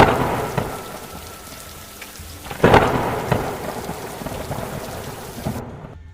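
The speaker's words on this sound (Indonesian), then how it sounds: "turun hujan lebat." Heavy rain pours steadily as a sound effect in a narrated horror story, with a loud thunderclap rumbling through the downpour near the middle before it cuts off abruptly.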